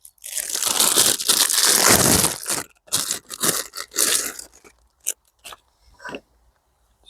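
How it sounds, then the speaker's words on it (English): Celery stalks are snapped and twisted off at the base by hand outdoors. A long loud crunching tear is followed by several shorter cracks and rustles, with quiet gaps between them. "I will just cut the bottom bit, take the rest home"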